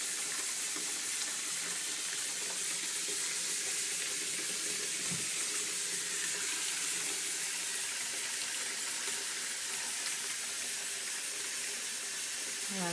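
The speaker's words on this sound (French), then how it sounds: "Elle se dissout bien comme une vraie bombe de bain." A homemade bath bomb fizzes and dissolves in water, giving a steady, even hiss of tiny bubbles that runs unbroken at a moderate level, with no talk over it.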